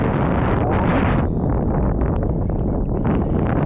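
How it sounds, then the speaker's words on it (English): Strong wind buffets the microphone outdoors beside a lake while fishing, a loud continuous low roar and rumble that fills the whole clip with gusty variation. "It's blowing wind."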